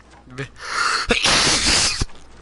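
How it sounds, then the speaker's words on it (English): A quick inhale followed by a loud, forceful sneeze burst close to the mic, ending abruptly with a brief quieter tail. "sorry, I had to sneeze"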